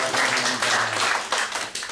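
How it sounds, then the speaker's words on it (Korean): An audience gives a lecturer a round of applause at the close of a history talk, dense hand clapping sustained and steady at close range for the whole stretch. "이동욱 강사님께 큰 박수로."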